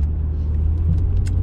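A 2001 Jaguar XKR rumbles under hard acceleration, a steady low engine drone close by with no break, over about a second and a half.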